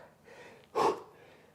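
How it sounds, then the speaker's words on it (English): A single sharp, loud gasping breath from someone working hard through a muscle-building workout, a short forceful inhale standing alone against a quiet room. "I'm working hard, I'm breathing hard."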